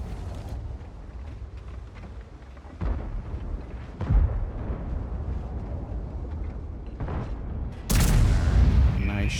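Tank cannon shots in a team tank video game replay, including hits on Object 277 tanks: repeated heavy booms over a dense battle rumble, with a sharp loud blast near the end.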